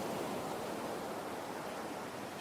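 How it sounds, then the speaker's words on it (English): A white noise machine in the video game Perfect Tides gives a steady, loud, broadband hiss like rushing surf, continuous and unchanging throughout with no voices. "Oh, the white noise machine, too good."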